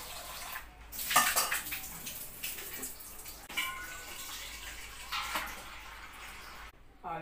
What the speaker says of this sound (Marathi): तर आपण पटापट आता भरून घेऊ पाणी